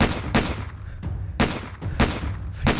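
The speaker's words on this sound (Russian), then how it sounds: "Ты слышишь эти выстрелы?" Loud, sharp gunshots fire in an irregular burst in a Minecraft zombie apocalypse series, about six cracks over a few seconds, each with a booming low tail.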